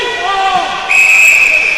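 Referee's whistle at a JV ice hockey game between Creek and Dayton Stealth: a sustained high, steady blast starts about halfway through and holds to the end, over rink noise and crowd murmur.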